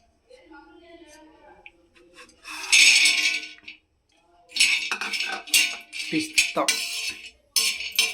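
Dry fruits and seeds, including cashews, pumpkin and sunflower seeds, almonds, pistachios and dates, are stirred in a pan to roast lightly, with loud scraping clinks of a utensil in bursts after a quieter start with a voice.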